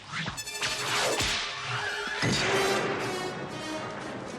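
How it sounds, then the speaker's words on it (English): Indiana Jones whip cracks ring out as a few sharp, loud snaps, each with a swishing lead-in, spaced about a second apart over a dense, echoing background. "we could have pulled the whip sounds from a library, since obviously there's been whips recorded in the past"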